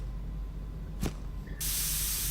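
Oil sprays in the game Into the Radius 2 as a loud sustained hiss that starts abruptly and runs on, after a brief sharp burst over a low background hum.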